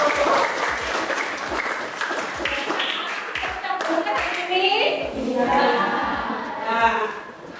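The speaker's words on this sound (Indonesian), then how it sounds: "Tepuk tangan dulu." A classroom group claps in bursts of rhythmic patterned clapping, with children's voices and chatter rising over the hand claps toward the end.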